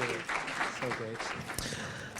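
Applause from a conference audience after a panel, clapping heard under a voice speaking over it.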